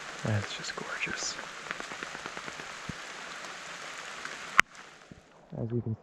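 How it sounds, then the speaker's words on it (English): Rain falls steadily on a forest trail, a dense, close patter of drops on leaves and surfaces with a sharp tap partway through and brief bits of speech. "As you can see though, it's raining harder now."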